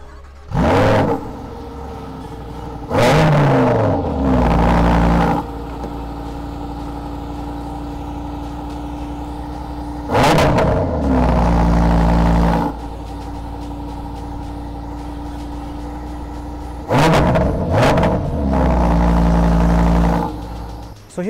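A Lamborghini Sterrato's V10 engine revs in several loud, short blips spaced across the stretch, each rising sharply and dropping back to a steady rumbling idle, with no talking.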